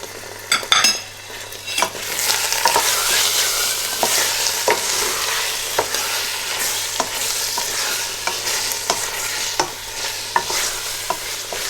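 Desi ghee, about a tablespoon, poured into palak paneer cooking with cardamom and cinnamon, sizzles loudly as the pan is stirred, with a bright hiss and scattered spoon scrapes and clinks throughout.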